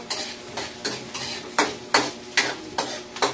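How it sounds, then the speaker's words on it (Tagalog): Onion, garlic and tomato sautéing in a hot pan for a home-cooked lunch: repeated scraping stirs every half second or so over a steady close sizzle, with no voices. "Ilagay ko na yung sibuyas, bawang, kamatis."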